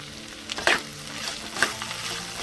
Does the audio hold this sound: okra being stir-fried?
yes